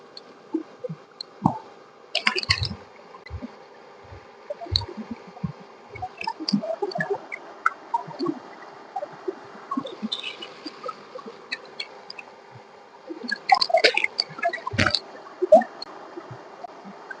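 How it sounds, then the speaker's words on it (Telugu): Country chicken pieces are washed by hand in water outdoors, giving soft, irregular squishes, drips and small splashes close by, sparse at first and busier toward the end, with no talking. "ఈ చికెన్ ఉంది కదా కడుక్కున్నది, మళ్ళీ ఒకసారి కడుగుదాం."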